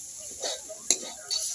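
Drumstick leaves frying in a pan with pickled chillies, stirred in a few brief, soft scraping strokes over a faint, steady sizzle.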